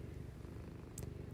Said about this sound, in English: you might hear my cat purring too.